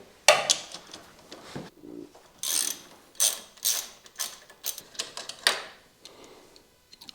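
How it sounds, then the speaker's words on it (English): Ratchet with a 14 mm socket loosening a nut while fitting crash bars to a Honda NX500 motorcycle, close and crisp: bursts of rapid pawl clicks separated by short pauses, repeated several times. "14 mil socket."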